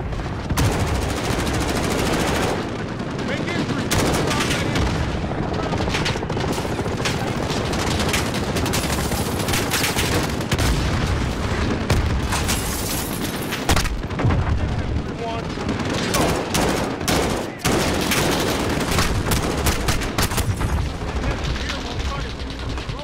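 Sustained machine gun fire and explosions in Call of Duty: Modern Warfare on Xbox One S, a dense, loud, unbroken barrage of shots and booms that keeps going without letup.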